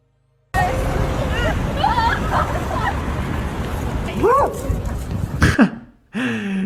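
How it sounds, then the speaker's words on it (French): A dog barks and yips in short bursts amid a busy crowd murmur and street noise, then a car-like rumble briefly takes over. "Et même le chien, il comprend pas, il aboie."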